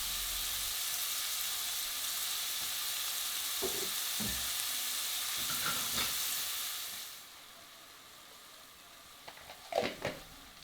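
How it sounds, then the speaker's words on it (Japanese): Onions sweat in a pan with a pinch of salt, a steady close sizzle and hiss with a few stirring scrapes, fading to a lower, softer sizzle partway through, with no talking. "玉ねぎの持っている水分を出しながら色をつけずにきっちりと火を入れていきます。"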